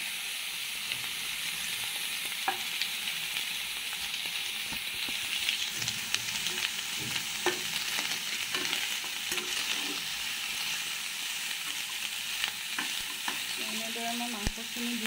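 Boiled pork sizzles in a hot wok for a Naga-style pork dish, a constant loud frying hiss broken by scraping stirs and occasional pops, with no one speaking.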